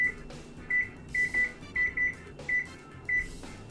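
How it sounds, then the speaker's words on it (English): Kitchen timer set while an egg cooks for pancakes: short, high electronic beeps in pairs and triplets, repeating steadily and clearly over a quiet kitchen background. "We do want to set a timer though."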